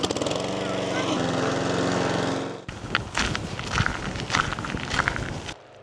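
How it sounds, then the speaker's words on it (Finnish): Petrol lawn mower running steadily at a garden lawn for a couple of seconds before it cuts off, followed by close footsteps and rustling on grass and gravel. "Nyt mä haen tän ruohonleikkurin täältä."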